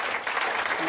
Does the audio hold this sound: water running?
no